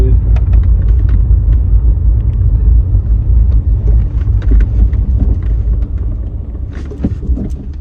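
A 2001 VW Jetta MK4, freshly serviced with new transmission fluid, drives along a road, its engine and tyres making a steady low rumble throughout, with faint voices now and then.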